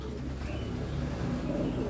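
Pigeons cooing as a bird lands, a dense overlapping chorus of low coos and throaty calls close by, continuous throughout.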